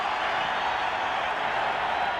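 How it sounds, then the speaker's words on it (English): A baseball stadium crowd at a 1988 American League Championship Series game involving the Red Sox roars steadily, a dense, loud wash of cheering and noise with no break. "And listen to the crowd. They have come alive."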